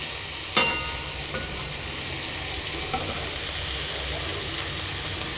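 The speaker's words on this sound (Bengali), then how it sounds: "সবগুলো কিছুক্ষণের মতো নেড়ে নেবো, যতক্ষণ না মশলার গন্ধটা চলে যাচ্ছে ততক্ষণ পর্যন্ত আমি নেড়ে নিচ্ছি।" Spices frying in a pan produce a steady, close sizzle, with one sharp utensil knock near the start and a softer stir later.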